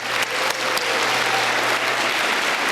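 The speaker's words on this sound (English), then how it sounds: "So let's give him one more round of applause." A school audience of parents and students applauds at a fifth grade D.A.R.E. graduation, producing dense, continuous clapping from a sizable crowd that holds steady and fairly loud throughout.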